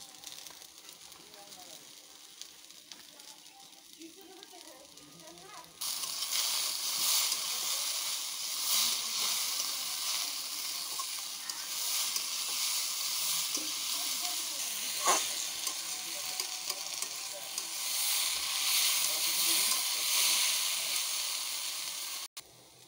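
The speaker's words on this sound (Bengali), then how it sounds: "তরকারিটা ভাজা হয়ে গেছে।" Small fish curry with turmeric and salt frying in a pan, a steady broadband sizzle that jumps louder after the first few seconds and holds continuously, close and dense, with no talking.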